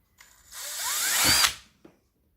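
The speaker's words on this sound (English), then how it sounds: "So first things first, got to drill the holes." A power drill whirs up to speed, drilling holes in a tent annexe roof pole, runs steadily for about a second with rising pitch, then stops; a faint knock follows. Close and loud, no voices.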